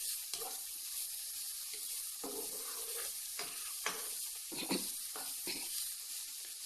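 Potatoes fry in a little oil in a pan, giving a steady soft sizzle. Quiet scraping and stirring clatters break through it now and then.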